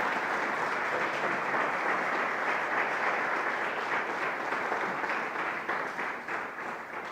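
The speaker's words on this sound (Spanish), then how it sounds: "Dale un aplauso al Señor." Church congregation applauding together at a Sunday morning Spanish-language service, a steady dense wash of clapping sustained throughout, fading slightly toward the end.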